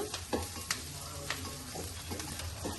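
Onions frying in a pan for spinach soup, with a quiet sizzle and several sharp scrapes and taps of a spatula stirring them, close and fairly soft.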